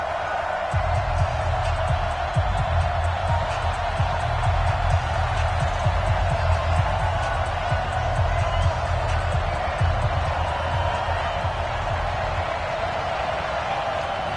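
A football stadium crowd in Dallas waits for a Thanksgiving afternoon game between the Baltimore Ravens and Dallas Cowboys, a steady, roaring murmur of thousands holding at a constant level with a low rumble underneath.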